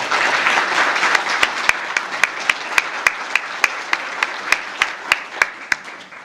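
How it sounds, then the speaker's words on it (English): A room of officials applauds culinary and hospitality students at a town breakfast event. The round of clapping is steady and sustained for several seconds, with regular sharp clicks ticking through it. "I wanted to give them a big round of applause for breakfast."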